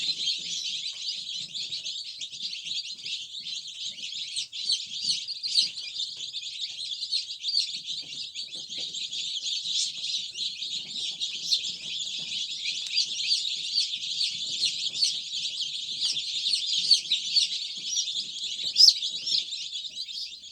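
Dozens of chicks peeping together, a dense, continuous chorus of high, shrill cheeps from close by.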